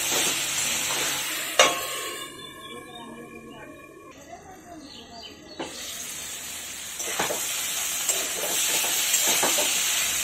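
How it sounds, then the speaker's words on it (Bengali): Fish curry with thickly cut vegetables being stirred in a pan, with steady sizzling and scraping that briefly drops when the lid comes off, alongside a clatter and faint voices. "ঢাকনাটা খুলে একটু নেড়ে চেড়ে একটু চিনি দিয়ে দেব"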